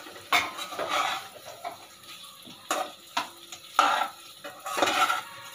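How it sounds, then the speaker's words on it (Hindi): A spoon stirring onion, potato, peas and paneer in a pan, with several distinct scraping clinks against the metal at irregular intervals over a faint sizzle, close and moderately loud, with no talk. "ऐसे अच्छे से मिक्स कर लेंगे।"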